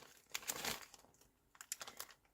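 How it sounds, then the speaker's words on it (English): Soft crinkling rustles of a 1 cm black paper strip being folded for a handmade card, two short bursts of papery crackle up close, faint and quiet. "Then you fold this bottom piece to meet the middle, like that."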